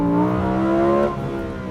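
Lamborghini Huracan Sterrato exhaust on a throttle blip, a loud, close engine note holding a steady pitch before easing off as the revs drop, with no talking over it.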